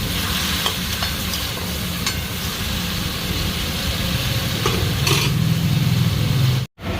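Onions fry in a pan with salt and a splash of water while a Rohu fish curry is being made. The steady, loud sizzle goes on with occasional stirring scrapes and no voices.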